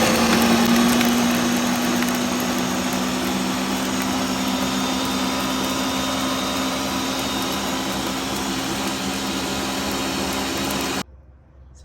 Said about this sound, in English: So I have to blend it now